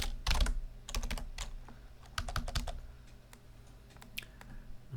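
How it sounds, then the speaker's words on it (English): Typing on a computer keyboard while entering text into a document, with clusters of quick, close key clicks in uneven bursts and short pauses. "So we're going to click up here and we're going to type now"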